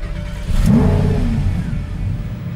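A Lamborghini Huracan engine starts with a push-button and catches into a loud, close revving roar that settles to a steady idle.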